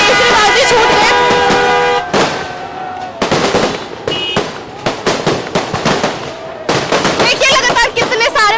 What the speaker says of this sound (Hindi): देखिए लगातार कितने सारे पटाखे फोड़े जा रहे हैं।